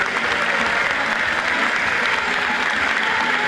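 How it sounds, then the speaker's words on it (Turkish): Large crowd applauding at a fashion show event in Bayrampaşa, dense continuous clapping, loud and steady throughout with no speech over it. "Kocaman alkışlarınız."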